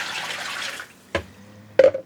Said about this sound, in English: And then we're adding in water.